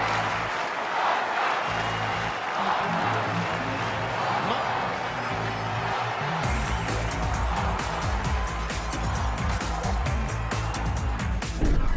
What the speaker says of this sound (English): Have a listen to the crowd.